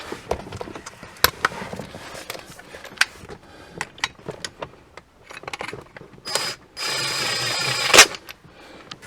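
A ratchet tightens the door check rod bolts on an Infiniti M45 or M35. Close, sharp metallic clicks come in uneven bursts, followed by a short denser stretch of rapid ratcheting.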